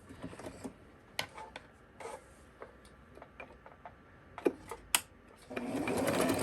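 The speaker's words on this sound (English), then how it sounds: "zigzag stitch on the widest setting" A domestic sewing machine set to its widest zigzag stitch runs on a stocking seam, giving sparse ticks and clicks and then a steady close whirring run at the end.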